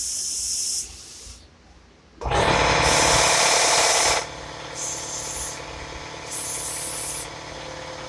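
Bursts of an Iwata SuperNova WS 400 paint spray gun hissing at about 33 psi, a long blast followed by shorter on-off sprays with brief pauses between, close and loud.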